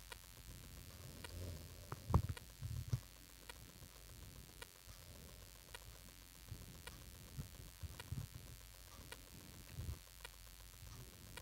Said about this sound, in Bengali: এবার আমি কোপ্তাগুলোকে ভেজে নিচ্ছি।